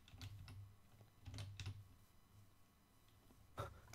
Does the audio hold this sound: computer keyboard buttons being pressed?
yes